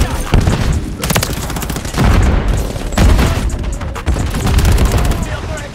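Rapid automatic shotgun fire in Call of Duty MW3 on a close-range war map, with loud repeated bursts of blasts and booms throughout, under in-game noise.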